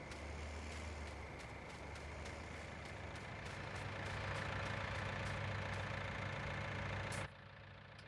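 A tractor engine idles in the farming game Farming Simulator 19, a steady low diesel rumble with faint rhythmic clicks, holding level before cutting off abruptly near the end.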